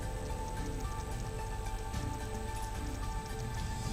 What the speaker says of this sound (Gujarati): ભાણવડમાં ધોધમાર વરસાદ પડ્યો હતો